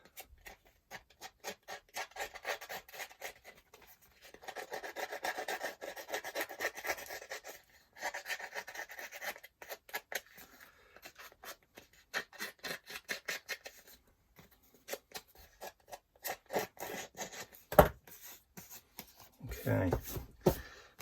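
Paper being scuffed with the edge of a pair of scissors for a mixed-media collage page, a quiet run of rapid rasping strokes in bursts with short pauses, close up.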